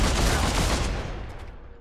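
Rapid gunfire during a Deathwatch Tyranid Invasion tabletop game session bursts loudly and then tails off toward the end, with no talk over it.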